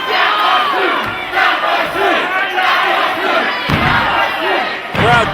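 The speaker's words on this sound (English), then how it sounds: "Crowd taunting." A wrestling crowd at a tag team championship match taunts and cheers in loud, rolling chants, with voices surging and a few thuds breaking through the steady roar.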